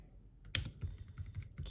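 Keys on an iPad keyboard dock clack in a quick series of crisp taps, close and clear, starting after a brief quiet moment.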